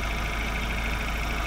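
A 2018 Ford Ranger Raptor's 2.0-litre biturbo engine idles smoothly and steadily, a close, even low rumble with no voices present.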